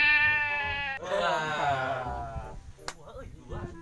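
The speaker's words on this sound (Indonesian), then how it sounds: "Domba bikang nih." A female sheep lets out a long, loud wavering bleat up close, followed by quieter shuffling and a sharp click, with people talking in the background.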